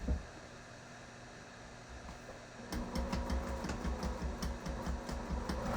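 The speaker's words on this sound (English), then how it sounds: "I'm just going to sew the edges first" Sewing machine stitching along fabric edges, quiet room hum at first, then the motor starts and runs with a steady rapid mechanical patter, close but fairly soft.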